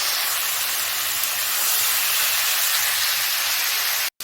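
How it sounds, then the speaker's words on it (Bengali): Crab pieces rubbed with salt and turmeric fry in hot oil, giving a loud, steady, close sizzle that runs unbroken for about four seconds and then cuts off abruptly. "এখন এই তেলটার মধ্যে আমি কাঁকড়াটাকে ভেজে নেব।"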